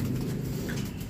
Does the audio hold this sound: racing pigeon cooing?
yes